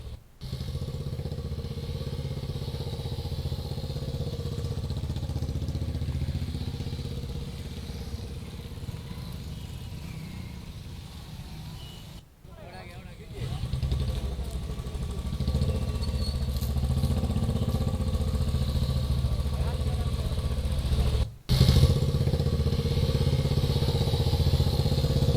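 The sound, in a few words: motorcycle rally engines for road safety month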